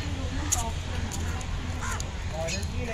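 Crows caw a few times in the background while people talk over a steady outdoor hum in Rangaon, Vasai, India.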